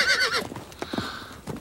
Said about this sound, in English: I can almost make believe that I hear horses right now.